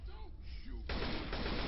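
Gunfire in the video game Left 4 Dead 2 erupts as dense, continuous rapid shooting that fills the second half, with players talking over it beforehand.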